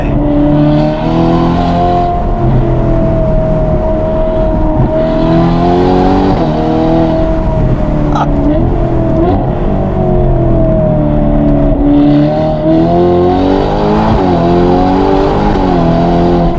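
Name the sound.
race car engine revving and accelerating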